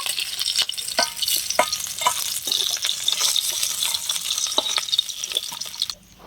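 Two bay leaves, a dried red chilli and panch phoron fry in hot oil left from frying fish, a busy close crackle and sizzle with scattered pops and a stirring scrape, ending suddenly.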